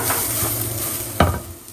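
Rice for pulao or biryani stirred as it fries in hot oil in a pan, a steady close sizzle with scraping stirs and one louder stir near the end.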